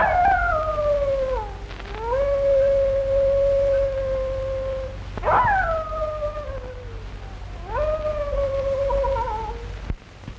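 A dog gives long mournful howls in an old 1935 film soundtrack, three drawn-out wails, each starting high and sliding down, over a steady low background hum.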